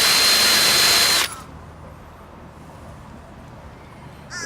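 A power drill whines loudly for about a second at boat blister repair work in a marina boatyard, then cuts off, leaving quiet outdoor ambience before a brief burst at the end.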